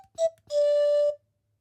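Carry-On Digital Wind Instrument 2 Plus sounds a short blip and then a held, dry reedy note with reverb off, stopping cleanly into silence.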